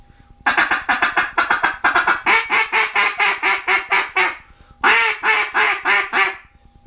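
Duck call with its reed tip adjusted to remove some kick, blown in a long run of rhythmic quacking notes, close and loud, then a short pause and a second burst of quacks, slightly less raspy in tone.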